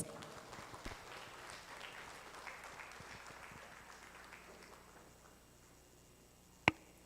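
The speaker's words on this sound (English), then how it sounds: "Let's all give Miss Francesca Kasuay a big round of applause." Scattered applause from a modest audience greeting speaker Francesca Kasuay at a sustainability roundtable in the Philippines, fairly faint and thinning out toward the end, closed by a single sharp knock.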